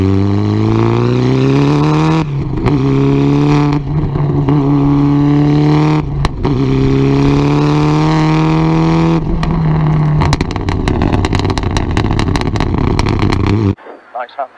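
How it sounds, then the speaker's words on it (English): A Toyota Celica GT4 Group A rally car accelerates on a rally stage, its loud in-car engine note climbing steadily through several gears with distinct shift breaks. "you can feel the acceleration is just so much better"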